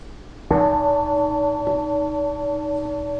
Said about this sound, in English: then the bell will ring, and you come back up